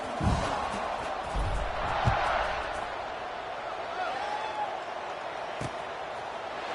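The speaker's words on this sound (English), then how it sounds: "this crowd is buzzing after that last score" Steady stadium crowd buzz from the NCAA 26 college football video game during a Missouri State vs Indiana matchup, a continuous roar with a few dull thumps and rising swells throughout.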